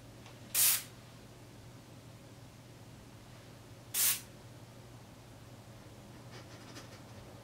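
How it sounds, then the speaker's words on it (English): Two short hissing sprays from an aerosol can, a few seconds apart, in an otherwise quiet room. "Let's give this a spray."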